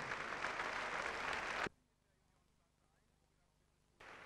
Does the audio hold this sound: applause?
yes